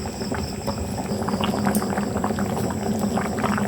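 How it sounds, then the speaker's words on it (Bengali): Rice and dal for khichuri bubble in a pot, a dense, continuous close-up burble of boiling liquid with small pops, steady and without pause. "এবার চাল আর ডালটা অনেকটা ফুটে এসছে, সিদ্ধ হয়ে গেছে"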